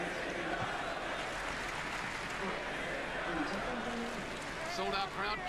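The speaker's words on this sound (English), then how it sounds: "Sold out crowd chiming in." A sold-out crowd of more than 16,000 at a Chicago-area professional wrestling event roars and cheers in a continuous dense wash of noise, with a voice talking over it throughout.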